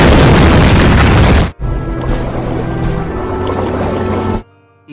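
A ship explodes in a war film, a loud dense roaring blast that stops abruptly and gives way to quieter rumbling and lingering low debris noise before falling silent.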